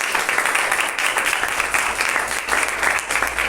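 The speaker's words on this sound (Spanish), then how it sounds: "Denle un aplauso al Señor" A church congregation applauds, sustained dense clapping at steady volume throughout, loud and close with no break.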